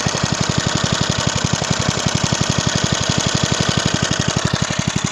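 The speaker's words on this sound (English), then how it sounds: "First pull you choke it, second pull you quickly release the choke and then it starts." A 1979 Hayter Hayterette Professional lawn mower with a petrol engine and points ignition runs close and loud, firing in rapid, very regular pulses that form a steady chugging beat.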